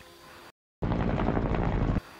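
Helicopter arriving at a forest hunting spot in a film, a loud, dense rotor and engine roar that cuts in abruptly after a brief silence and holds steady for over a second before stopping.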